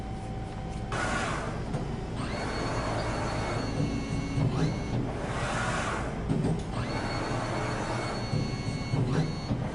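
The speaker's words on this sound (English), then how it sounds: "This is spreading the powder in a thin layer to create a base for the model to be built on." A 3D powder printer for rapid prototyping spreads a thin layer of cornstarch-like powder, a steady mechanical whirring with periodic swelling sweeps as the spreader passes back and forth.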